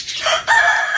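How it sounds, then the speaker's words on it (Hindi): A rooster crows loudly and close at hand, one strong drawn-out call rising then holding, heard on its own without talk. "ओ भाई साहब मुर्गा तो यहाँ पर घूम रहा है"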